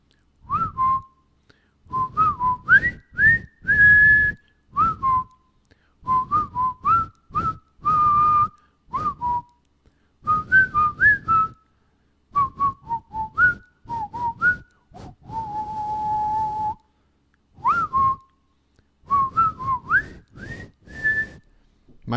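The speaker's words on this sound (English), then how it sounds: "My whistling ain't too hot." A man whistles a melodic tune up close during a live Orioles at Blue Jays baseball broadcast, in short bursts and phrases separated by brief pauses, with no talk over it.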